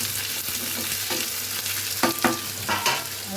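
Tomatoes stirred and fried in a pan, a close, continuous sizzle broken by several sharp scraping stirs of a spoon against the metal, loudest toward the end, with no talking.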